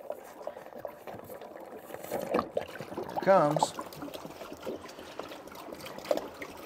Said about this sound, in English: It's gonna splash down on us.